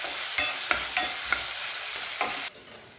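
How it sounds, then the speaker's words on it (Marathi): Thick slices of medium tomatoes fry in a pan, with a steady sizzle broken by a few sharp scraping stirs of a utensil, loud and close with no talking, then the sound drops away abruptly near the end. "आता 2 मीडियम आकाराचे टोमॅटो थोडेसे जाडसर कापून त्याला एक सॉफ्ट होईपर्यंत आपल्याला फ्राय करून घ्यायचे."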